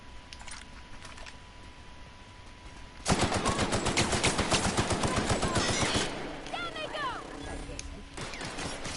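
Rapid automatic gunfire in the sci-fi game Outer Worlds, a dense burst of shots for about three seconds, loud and close, following quieter ambient game sounds, with speech over parts of it.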